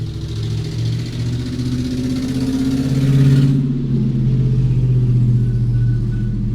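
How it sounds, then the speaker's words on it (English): A loud car engine rumbles close by, swelling in the middle as the vehicle passes, then settling into a steady low drone as it moves on. "I'm gonna let her pass by with this loud engine so y'all can hear this"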